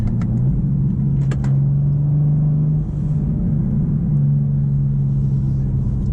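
A BMW M4 CSL engine drones low and steady from inside the car while it drives on a highway. Road rumble runs underneath, the pitch holds briefly and then dips, and a couple of short clicks come near the start.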